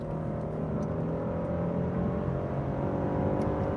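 Steady, low engine drone from a 2021 Genesis G80 3.5T Prestige AWD being revved, heard from inside the car: a constant subdued hum without dramatic rises.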